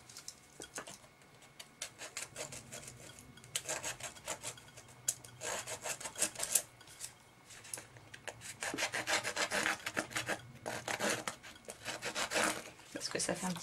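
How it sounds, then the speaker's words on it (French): Rasping strokes of a file shaping the edges of a handmade card, quick irregular scrapes in bursts with short pauses, close and fairly quiet throughout. "je pense que je vais usiner les bords"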